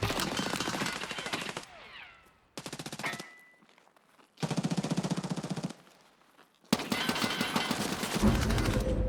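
Long rapid bursts of automatic gunfire in a first-person shooter video game, four loud stretches of dense rattling shots broken by short quiet gaps with scattered effects and faint background game sound.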